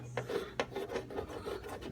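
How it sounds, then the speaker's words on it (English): Sandpaper rasps across a sticky first layer of Bondo body filler on auto bodywork, a series of close, rhythmic scraping strokes, about five or six passes with sharp onsets. "you start sanding on this first layer of Bondo, this stuff is like almost like chewing gum."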